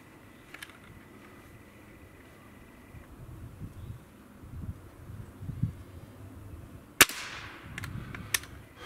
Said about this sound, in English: Take one more shot, make sure I'm in the center.